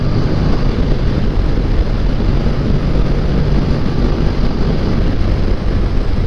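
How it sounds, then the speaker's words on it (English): A Honda NC700X DCT motorcycle engine runs at full throttle, a steady loud roar with wind rush that holds constant throughout, no speech. "Okay, full blast, full throttle."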